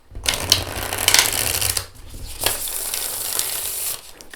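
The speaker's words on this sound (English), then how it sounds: "Let me show you how it shuffles" Oracle cards being shuffled by hand, a papery riffling and sliding in two bursts with a short pause between them, close and clear with no talking.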